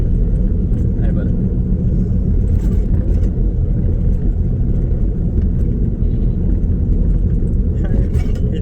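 A car cruising along, its engine and road rumble a steady, loud low drone throughout, with a voice talking over it at times.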